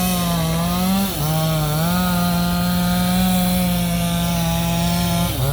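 A chainsaw cuts felled rubber tree wood with a loud, continuous, close-up whine that dips briefly in pitch a couple of times as the blade bites.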